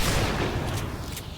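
Rapid gunfire in the video game Hunt: Showdown rolls through as a dense, loud burst of overlapping shots and booms, steady throughout with no talking.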